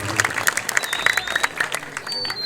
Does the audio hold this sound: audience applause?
yes